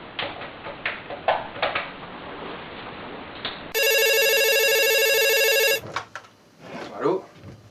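Telephone ringing indoors in a French comedy film: an electronic ring sounds loud and steady for about two seconds, coming after and before voices talking.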